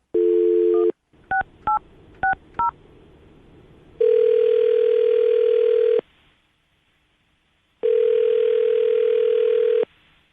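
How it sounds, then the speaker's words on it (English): Telephone dial tone during a call to a phone number: a steady tone, then a quick burst of keypad dialing beeps, followed by two long, loud ringback tones separated by a gap, with no voices. "I'm going to dial her phone number right now, get her on the phone"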